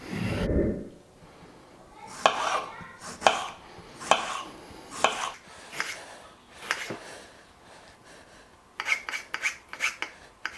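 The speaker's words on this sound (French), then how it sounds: "on va couper nos tomates en petits cubes" A knife cuts tomatoes into small cubes on a board, giving a run of crisp, evenly spaced close chops with brief scraping between, speeding into quicker strokes near the end; no voices.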